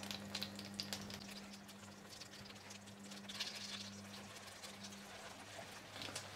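Salmon croquettes frying in a hot pan give a steady, soft sizzle and light patter that runs continuously at moderate level, with a low hum underneath and no talking.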